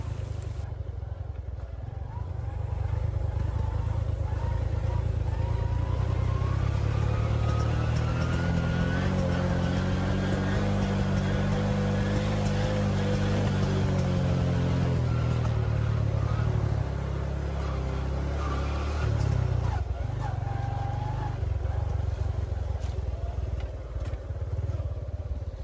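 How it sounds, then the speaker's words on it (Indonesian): A motorcycle rides along a narrow dirt farm road through hilly countryside in an Indonesian village, its engine droning close and steady, rising and falling in pitch as it climbs. "Kita masih bisa lewat pakai motor."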